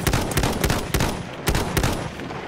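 Enemy machine gun fires rapid bursts of broadband cracks at close range, repeated clatter packed densely across the whole stretch with no speech.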